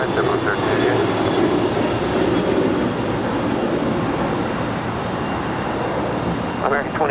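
JetBlue jet taking off from runway 25 right at LAX, a loud continuous engine roar filling the whole stretch, steady and broadband with slight swells, and a brief faint voice near the end.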